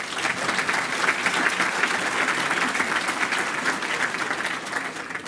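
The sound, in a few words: audience round of applause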